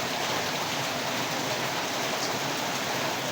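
Heavy rain pours steadily in a loud, continuous hiss of dense drops on surfaces such as tin roofing at a scrap yard, unbroken throughout with no voices.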